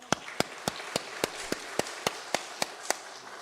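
Rhythmic, evenly spaced claps from a church congregation at an Easter joint worship service, a steady series of about a dozen sharp beats in unison, moderately loud, with no talking.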